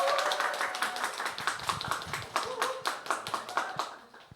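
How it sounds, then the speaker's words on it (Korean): A church congregation at a Sunday service claps in welcome for the children of the church school, a steady run of sharp handclaps over about four seconds, close and moderately loud. "우리 박수로 환영하도록 하겠습니다."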